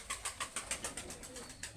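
Pakistani pigeons coo softly nearby in a quick, even run of repeated low calls, faint against a quiet indoor background.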